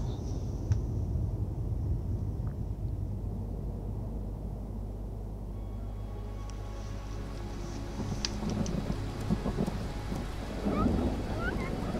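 Wind and rain roar through a storm in the video game Ori and the Will of the Wisps, with low rumbling thunder under a steady wash that swells toward the end.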